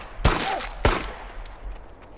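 Gunfire in the Pine Harbor zombie video game, two sharp, loud shotgun-style blasts about half a second apart, each followed by a short ringing decay and then quiet.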